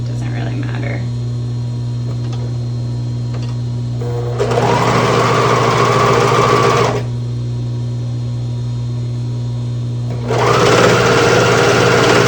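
A domestic sewing machine top stitches a fabric face mask in two steady whirring runs, separated by a pause filled with a constant mains hum.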